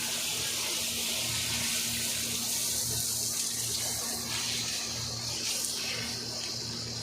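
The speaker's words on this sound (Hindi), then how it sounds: "इसके साथ फर्श भी धो लेते हैं और ये पौधे भी धो लेते हैं" Water from a hose gushes steadily while a floor and potted plants are washed on a hot day, a loud continuous splashing hiss with a faint steady hum beneath and no talk.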